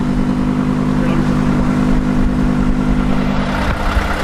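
Audi R8 V10 Plus idling steadily close by, a continuous low engine drone with a faint clatter running the whole time, while people talk over it.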